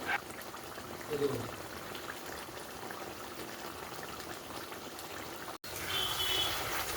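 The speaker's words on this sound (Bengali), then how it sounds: "আলুটা সেদ্ধ হয়ে গেছে দশ মিনিট ফুটিয়ে নিচ্ছি" Potatoes boil in a pot of water for a vegetarian cauliflower and potato curry, a soft, steady bubbling that runs throughout at low volume, with a voice talking at times.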